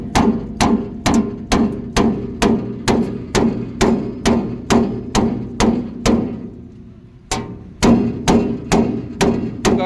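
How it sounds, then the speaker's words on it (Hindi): A hammer strikes the raised, damaged part of an excavator's body after an accident, a loud steady series of ringing metal blows with a brief pause midway before the pounding resumes, with no voices. "ये जो उठा हुआ भाग है इसको थोड़ा सा हम लोग हथौड़ी से मार के"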